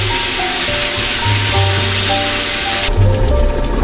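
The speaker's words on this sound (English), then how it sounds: "This really needs to saute for about 15 minutes." Spaghetti red sauce ingredients sautéing in a hot pan, a loud steady close sizzle that hisses continuously, then the hiss drops suddenly near the end as the pan is stirred or moved.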